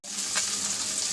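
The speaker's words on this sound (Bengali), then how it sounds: "কড়াই তেল দিয়ে দিচ্ছি, মাছটা দিয়ে দিব" Pabda fish frying in hot oil in a kadai, giving a steady, close sizzle throughout the short moment.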